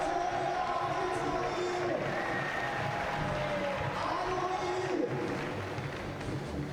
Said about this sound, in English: There's a lot of support there from the crowd. You can probably hear that coming down the waves to you.